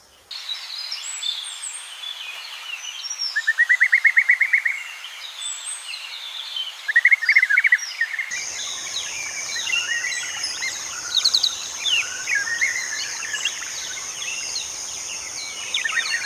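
Red-capped manakin calling in tropical forest: short chirps and rapid buzzy trills repeat at intervals. From about halfway through, a steady high insect drone sits underneath.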